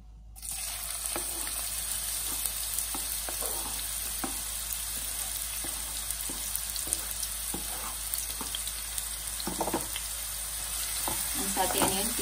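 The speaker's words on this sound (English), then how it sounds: "Once the oil is hot, put onions into it." Onions sauté in hot oil with a steady, close sizzle. Occasional stirring scrapes and taps sound over the frying.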